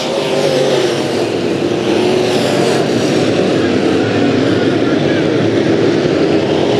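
A pack of sport modified race cars roars down the front stretch at Bakersfield Speedway, a loud, continuous engine drone that stays dense and sustained throughout with no clear gaps.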